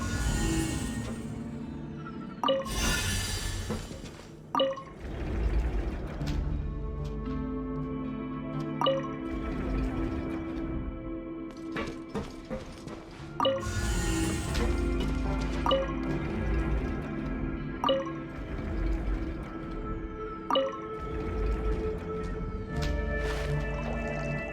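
Water filling a stuck mechanism in a fantasy video game story quest, its level rising with a steady liquid rush punctuated by repeated drips, splashes and mechanical thuds, loud and continuous throughout.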